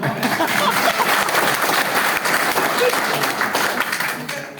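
An audience at a talk on healthy food applauds in a loud, sustained burst of many hands clapping at once, with crowd noise and a voice underneath, fading slightly at the close.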